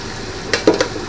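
Chopped onions hit hot extra virgin olive oil in a pot, giving a few close, crackling bursts of sizzle and stirring scrapes over a steady background hiss.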